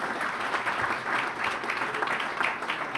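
Dinner audience at a mayors' tribute event in Washington, DC applauds, a steady wash of clapping from a crowded room, moderately loud and continuous throughout.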